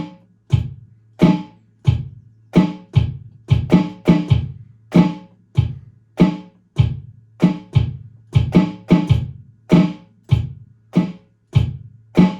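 A drum kit plays the bass pedal and snare pattern from a song, with sharp, evenly spaced hits and low kick thumps repeating close and loud in a steady groove, with no voices.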